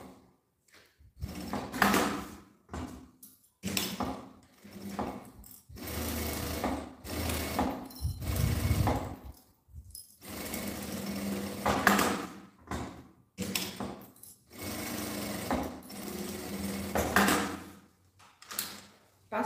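A sewing machine stitches fabric for a cube-shaped toiletry bag in repeated short bursts of rapid mechanical whirring, separated by pauses and light handling clicks, fairly close and loud.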